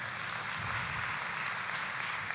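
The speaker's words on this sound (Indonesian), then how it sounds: "Boleh kita kasih tepuk tangan?" A church congregation claps together in a dense, even patter of applause, moderately distant and steady throughout, with no voices on top.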